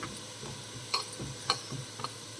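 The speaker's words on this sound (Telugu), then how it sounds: "ఈ లోపల నువ్వులు ఫ్రై చేసుకోవాలి" Sesame seeds toast in a pan over medium flame, giving a soft, faint sizzle broken by a few sharp clicks of a stirring spoon, with no one talking.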